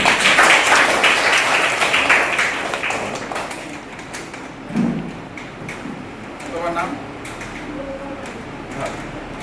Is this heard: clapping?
yes